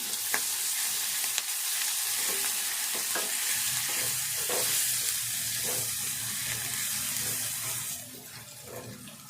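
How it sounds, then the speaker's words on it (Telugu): Ginger garlic paste fries with onion and green chilli in a pan, making a bright, continuous sizzling hiss. Soft stirring taps are spread through it, and the hiss drops in loudness near the end. "అల్లము వెల్లుల్లి పేస్ట్ వేసుకుందాము అంతా కూడా కొద్దిసేపు వేయించుకుందాము"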